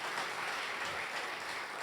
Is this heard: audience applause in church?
yes